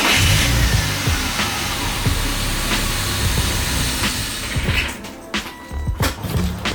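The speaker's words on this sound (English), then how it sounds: "I gotta start it up, wait for the car to die." BMW E36 engine idling with the fuel pump fuse pulled, a loud, rough, hissing running sound that holds steadily and then stumbles and cuts in and out near the end as the engine starves.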